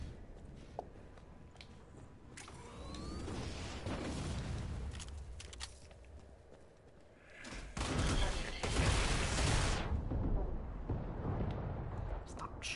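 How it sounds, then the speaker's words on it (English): Gunfire, missile blasts and booms from the video game Killing Floor 2 rumble and crack in dense bursts, growing heavier toward the end, with players talking over the action. "Stop shooting me with missiles"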